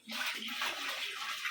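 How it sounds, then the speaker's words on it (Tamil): Water poured from a silver pot into a large pot for cooking biryani in bulk, a steady close gush of splashing that runs unbroken for just over a second. "அந்த சில்வர் சட்டி தூக்கி ஊற்றுமா?"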